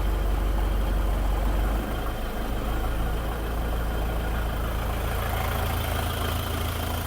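A tractor engine idles steadily at a low idle speed with a deep, low rumble that stays constant throughout, close by and fairly loud, with no voices.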